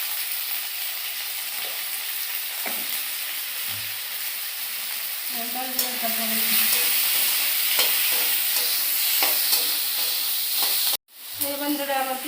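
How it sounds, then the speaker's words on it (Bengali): Onions fry in a pan with salt and turmeric, a constant close sizzle with occasional spoon stirs and scrapes that grows slightly louder midway, and a brief break near the end. "পেঁয়াজটা ভাজা ভাজা হয়ে গেছে"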